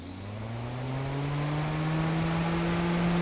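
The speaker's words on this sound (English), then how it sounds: "You hear a lot of airflow." Car radiator cooling fans run hard with the air conditioning on, producing a steady, loud rush of airflow with a faint whine that slowly rises in pitch and volume, like a distant freight train.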